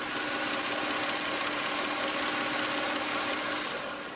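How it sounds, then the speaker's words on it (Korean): A Mercedes-Benz E63 AMG with its AMG-specific V8 petrol engine idles steadily, a smooth, even hum heard close up and alone for a few seconds with no talking. "엔진 소음을 먼저 들려드리면은"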